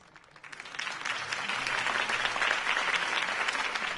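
Crowd applause following a campaign speech in Batman Telltale Episode 1, swelling from quiet into a broad, sustained roar of clapping that holds steady to the end.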